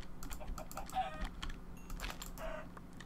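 Chickens in a Minecraft survival world clucking faintly in short bursts, mixed with scattered clicky keyboard-like taps throughout.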